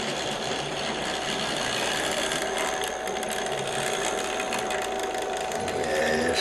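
Vintage Hornby Triang model locomotive running steadily on its track, a continuous close mechanical whirr and rattle with a faint clicking of wheels, alone with no talk.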